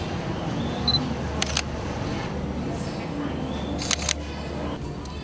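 Two Sony Alpha cameras, the A7 and A7R, set to 1/400 second shutter speed, each snap off a crisp double click, the pairs a few seconds apart against a constant background hiss.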